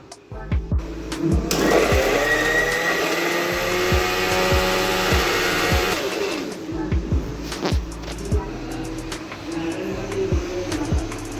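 A mixer grinder whirs loudly for a few seconds, blending a spicy pani puri water paste, then winds down, with sharp clicks and knocks before and after.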